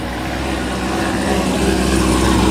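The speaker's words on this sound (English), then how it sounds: "So, cammed up C6 driving through." A cammed Corvette C6 rolling through a Corvette gathering, its engine a loud, close, rumbling drone that builds slightly as it passes.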